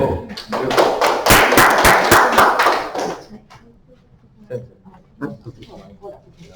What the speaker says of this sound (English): one more time, a big round of applause for Royden